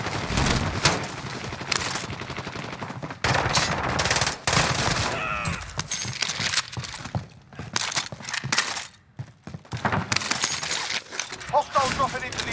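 Gunfire in the video game Warzone on Rebirth Island, with loud bursts of automatic fire, single cracks and breaking sounds scattered through the stretch and some talk mixed in.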